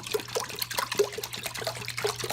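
Cold 2% milk is poured from the fridge into an Instant Pot Duo, a steady trickling, splashing stream with small glugs at an uneven rhythm, close and fairly loud, with no talking.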